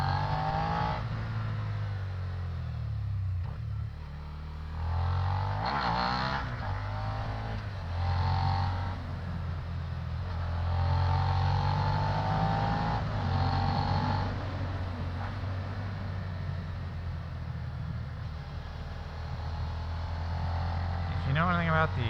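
A Suzuki SV650 motorcycle engine revs and pulls steadily while riding, rising and falling through shifts as someone talks over it throughout.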